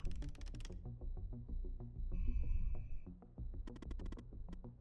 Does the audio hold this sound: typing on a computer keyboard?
yes